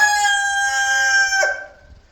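A homestead rooster crows once, loud and close, calling his hens into the barn. The long ringing call falls away at the end.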